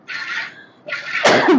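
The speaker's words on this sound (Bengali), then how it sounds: "কাশি হচ্ছে" A short, sharp cough bursts out close and loud, two quick explosive breaths in under two seconds with nothing else around them.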